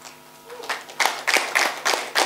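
An audience at a stage event claps as a music duo come on, the applause starting thin and swelling into steady, fairly close clapping that follows a voice talking.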